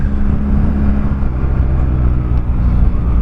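A BMW R1250/R1200 GSA motorcycle fitted with an aftermarket exhaust passes by, a steady, loud low engine rumble holding throughout with no speech.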